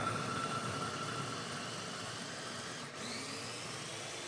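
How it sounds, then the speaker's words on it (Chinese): An electric meat grinder mincing small pieces of lotus root gives off a steady, even motor whir with a harsh broadband texture. It runs continuously for the whole stretch with only a brief dip near the end, and no one speaks. "切好装入绞肉机中，盖上盖子将它搅碎"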